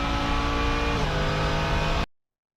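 A Mercedes GT3 race car chasing an Audi R8 GT3 around the Nürburgring, heard as a loud, steady onboard engine roar that holds for about two seconds and then cuts off abruptly into silence.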